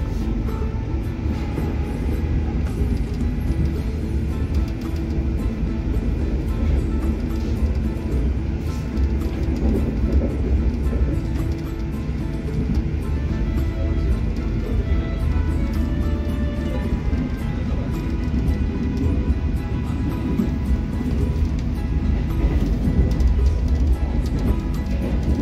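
Interior of a New Generation passenger train on the Jogja–Solo line: loud, continuous rumble and clatter of wheels on rough rails, steady for the whole stretch, with no talking.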